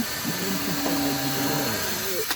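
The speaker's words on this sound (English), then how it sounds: "Drill a hole" A steady, loud power-drill whine runs for about two seconds, with the motor's pitch wavering slightly before it cuts off abruptly.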